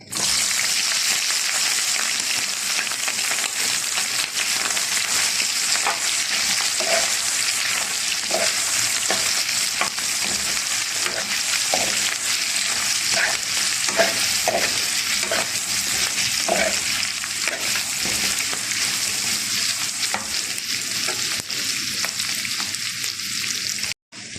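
Lungs and sweetbreads frying in a pan in Egyptian home cooking, a loud continuous sizzle close by, with intermittent soft spoon taps in the middle stretch, no talk.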